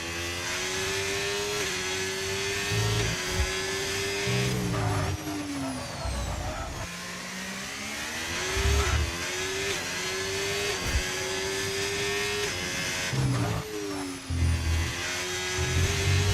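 A Ferrari Formula 1 car on a push lap on soft tyres at the Spain circuit in a racing game, its high-pitched engine screaming up through the gears with repeated shifts and brief lifts, loud and close.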